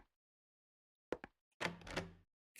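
Trying a locked door in Silent Hill 2: two quick knock-like rattles followed by a longer heavy thunk and rattle of the handle, close and clear against silence.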